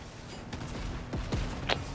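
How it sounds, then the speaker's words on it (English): Enemy gunfire in a video game, a quick scatter of faint distant shots with a few sharper cracks, low in level under background game sound. "They're really trying to shoot them niggas behind with the gun"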